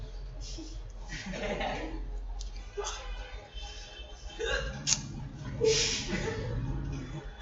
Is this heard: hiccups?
yes